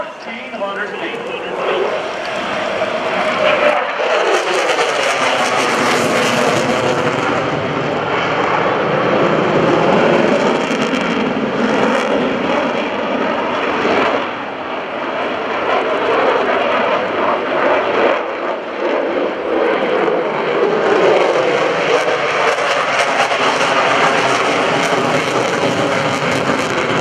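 F-16 Viper fighter jet pulling a tight 9G turn at the 2011 NAS Oceana airshow, a loud, steady jet roar that swells and sweeps in pitch as it passes, with commentary heard over it throughout.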